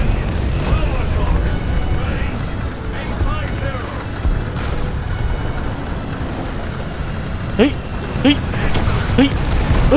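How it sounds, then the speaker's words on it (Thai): Heavy booms and blasts from a tank video game rumble through steady battle noise, with someone talking and shouting over the top. "ระเบิด ระเบิด ระเบิด"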